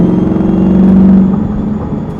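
A Lingenfelter Magnuson TVS2650 supercharged C8 Corvette pulls hard under acceleration, heard as a loud steady engine drone and whir from inside the car that rises, then eases off toward the end.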